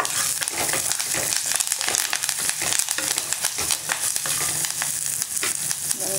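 Curry leaves and peanuts crackle and sizzle in hot tempering oil, a dense, steady frying hiss with sharp popping throughout, close and fairly loud with no talking.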